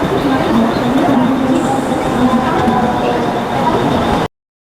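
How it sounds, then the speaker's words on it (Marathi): A Mumbai local train pulls into a platform at a station, loud and close, with a continuous rumbling roar and a steady metallic hum that runs for several seconds and then cuts off abruptly. "तर पाहू शकता आता ट्रेन आलेली आहे."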